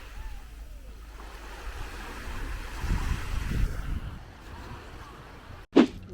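Ocean waves wash onto the sandy shore of Maltese beach on Amorgos, a soft steady surf swelling in the middle with wind rumbling against the microphone, ending in a short sharp knock.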